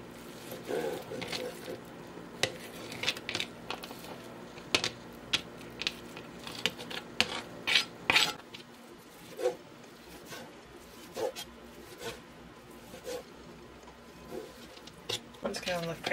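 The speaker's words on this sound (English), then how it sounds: "I'm just going to cut it into little tiny cubes." A kitchen knife finely dices a vegetable into tiny cubes for a lima bean soup garnish, making quick, light, irregular tapping chops on a cutting board under a speaking voice.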